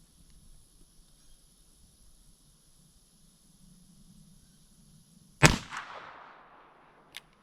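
A Smith & Wesson 648-2 revolver in .22 Magnum fires one sharp, loud shot outdoors after several seconds of quiet hum. The report rings out briefly and is followed by a small click.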